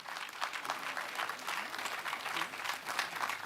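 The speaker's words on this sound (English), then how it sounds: "Let's clap for them first." A crowd at the launch of a justice systems suite gives a short burst of steady clapping, soft and somewhat distant, with faint voices underneath.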